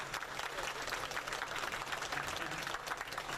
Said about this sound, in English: I want to have another round of applause from that.